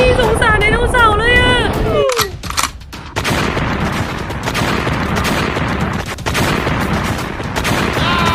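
A Siren Head creature with a gun for a head opens fire. A wailing, warbling tone gives way to loud bursts of rapid gunfire and continuous clatter, with shouting voices in the mix.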